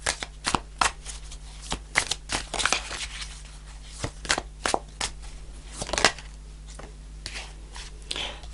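Tarot cards shuffled and pulled by hand make quick papery riffles and soft slaps in close, irregular bursts against a quiet background, with no talking.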